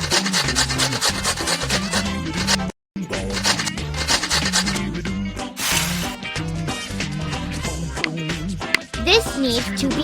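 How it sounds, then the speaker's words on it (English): Rasping, scraping strokes of a pizza ingredient being grated in the Masha and the Bear Pizza Maker cooking game, repeated rapidly and close, mixed with cartoonish game sound effects and a short gap of silence. "We need to grate this."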